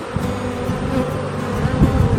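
Honey bees buzzing at an open beehive during an autumn hive inspection, a continuous close hum of many bees with individual buzzes rising and falling.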